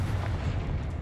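The Confringo fire spell explodes in the video game Hogwarts Legacy, heard as a short, dull, rumbling boom with broad noise that holds for about a second, moderately loud and without speech.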